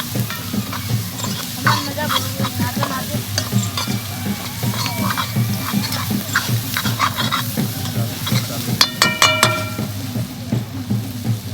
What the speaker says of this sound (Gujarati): હવે અંદર નાખી દેવું આપણે ટામેટા.